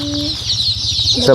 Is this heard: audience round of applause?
no